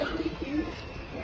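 A tumbler pigeon coos in soft, low, rolling notes, close and fairly quiet, against a dense background noise.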